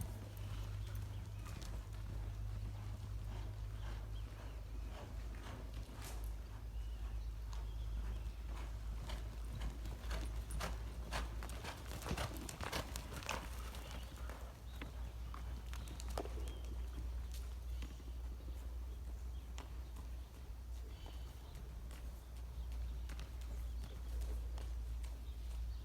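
A horse's hooves clip-clop in an uneven walking rhythm on firm ground during a riding session, moderately close, with a steady low hum and occasional birdsong in the background.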